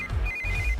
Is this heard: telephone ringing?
yes